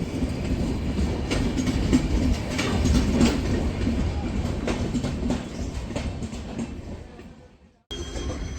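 The Mandavi Express passenger train rumbles along the rails with rhythmic clickety-clack, heard steadily from on board, with a brief drop in sound near the end.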